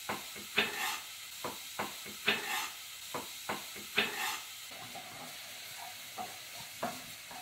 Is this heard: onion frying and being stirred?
yes